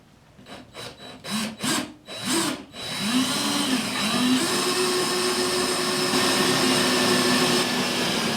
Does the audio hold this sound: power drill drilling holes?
yes